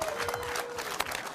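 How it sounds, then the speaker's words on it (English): A crowd gathered at a crappie fishing tournament weigh-in claps in steady applause, a dense moderate patter with one sharper clap near the end. "we need to give a huge round of applause to Wally Marshall"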